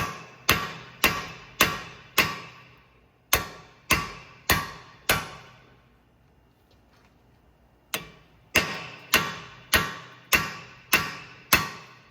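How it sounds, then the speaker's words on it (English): Sharp metallic hammer blows on a front wheel hub of a 9th-generation Honda Civic during wheel bearing replacement, in two quick runs of about six and eight evenly spaced strikes, separated by a brief quiet pause, close and ringing. "we hammer it from the other side"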